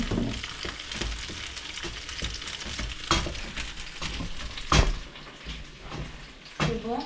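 Green peas cooking in a pot for a West African pilau with peas and chicken, a continuous soft sizzle broken by a few sharper knocks of stirring and pot handling.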